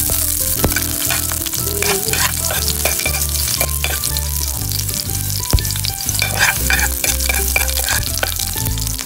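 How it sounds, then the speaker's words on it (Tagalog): Garlic sautés in a hot pan, giving a loud, close, continuous sizzle with brisk scraping and stirring strokes and a few sharp clanks of a utensil against the pan. "So na mga karaki, mag-gisa na tayo mga karaki. Bawang."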